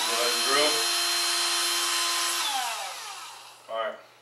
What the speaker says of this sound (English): Alright, so you can go ahead and drill.